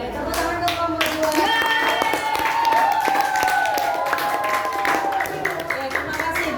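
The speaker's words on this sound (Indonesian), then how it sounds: "Oke, tepuk tangan untuk kelompok 2." A room of fifth-grade schoolchildren claps steadily for a classmates' group during a coding lesson, a dense, even applause running throughout with young voices chattering beneath it.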